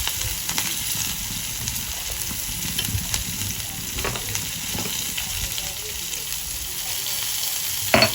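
Dried red chillies, green chillies and a pinch of asafoetida sizzle and fry steadily in hot oil, a continuous crackling hiss with occasional stirring clinks, close and fairly loud.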